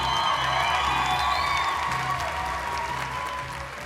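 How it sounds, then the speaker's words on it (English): An audience at the Miss Florida USA pageant applauding and cheering, a dense, continuous roar of clapping with scattered whoops that fades slightly toward the end. "you've been cheering again and again and again, and we'll do it again"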